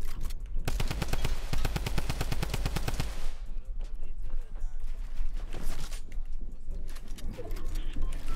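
Rapid gunfire bursts from a video game battle, dense repeated shots for the first few seconds, then scattered blasts and impacts, with talk occurring around the action.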